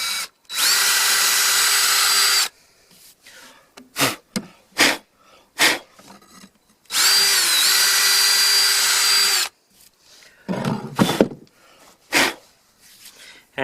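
A power drill whirs into log wall wood in two sustained bursts of a couple of seconds each, separated by short clicks and handling knocks, close by.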